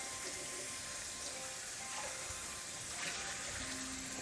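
Water runs steadily from a kitchen tap, rinsing off a pan during cooking, a continuous moderate gush with faint clinks and no talk.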